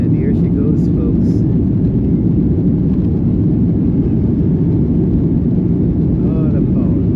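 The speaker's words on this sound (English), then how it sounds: "You hear the engine roars, and it's a lot of horsepower." Loud, steady roar of a jet airliner's engines at full power on takeoff from Miami, a dense low rumble that holds constant throughout.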